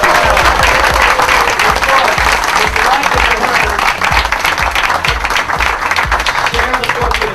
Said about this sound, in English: a warm round of applause for Don Lemon